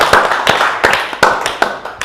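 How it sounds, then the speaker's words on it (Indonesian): Clapping from an audience at a relaxed legal talk show, loose overlapping hand claps in bursts across two seconds, fairly close and moderately loud, with no voices on top. "Tepuk tangan dulu."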